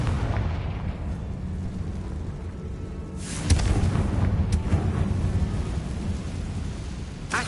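A Confringo blasting curse goes off in Hogwarts Legacy: a deep, rumbling explosion swells from a low ambient drone about midway through, then rolls on with crackling bursts under it, loud and close.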